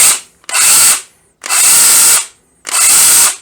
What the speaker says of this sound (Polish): wepnę sobie na chwilę akumulator, zobaczymy jak pilarka pracuje